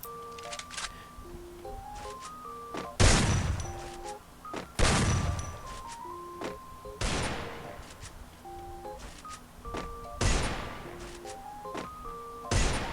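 Shotgun blasts fired while crouching in a mobile shooter game, about six loud booming shots spaced a couple of seconds apart over a backdrop of looping electronic music.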